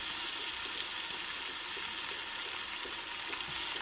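Onions and garlic fry in a hot pan with a steady, bright hiss of sizzling oil that runs unbroken and fairly loud for the whole stretch, with no voices over it.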